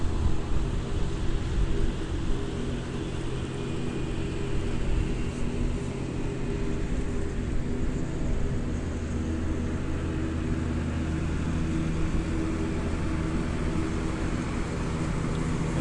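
A lawn mower cutting grass nearby, its engine a constant loud droning hum that holds steady without pause throughout, with no talk over it.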